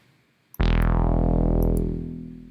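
A single synth chord from the AudioKit Digital D1 synthesizer, preset 53 with reverb on, strikes loud and bright, then rings out with a long reverberant tail that slowly fades.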